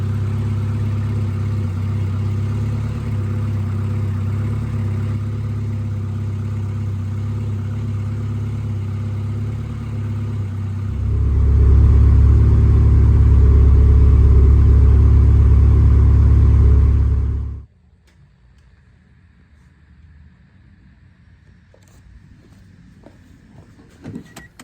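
Cold Honda Del Sol engine idling while warming up, a steady rumbling idle that swells louder for several seconds and then cuts off abruptly, leaving near silence with faint clicks.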